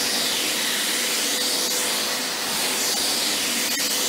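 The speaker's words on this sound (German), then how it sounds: "Saugen wir mal draußen den Balkon ab." A cordless AEG Ergorapido CX7 stick vacuum runs steadily outdoors on a balcony, a continuous close hissing whoosh of suction with small rattles of debris, birch leaves being picked up.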